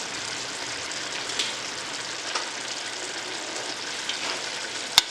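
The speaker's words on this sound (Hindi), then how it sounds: "अब इसको बढ़िया भून लेते हैं।" Masala sizzles and spits in hot ghee for a Jammu-style Dogra chicken curry, a soft, steady crackling hiss with occasional sharper pops.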